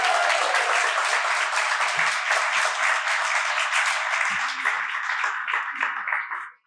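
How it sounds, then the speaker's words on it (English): An evening storytelling audience gives a storyteller a sustained round of applause, dense steady clapping from many hands that holds loud for several seconds before cutting off abruptly. "Let's have another round of applause for Ray"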